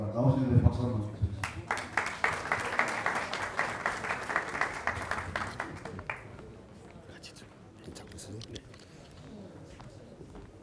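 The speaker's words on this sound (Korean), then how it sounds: "자, 나오시는데 박수 한번 주세요." Applause at a Korean party conference of metropolitan and local council members, with clapping that builds after a brief voice, holds for several seconds and then fades to quieter murmuring.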